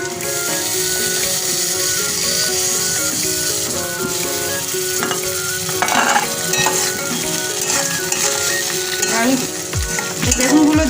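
Eggplant pieces frying in a pan, a dense continuous sizzle with stirring scrapes and clinks over it, close and steady throughout.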